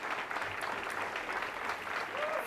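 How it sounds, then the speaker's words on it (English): Steady applause fills a room in central London as Keir Starmer enters, a dense, even wash of clapping from a gathered crowd throughout. "I think we should be able to see Keir Starmer entering the room to applause."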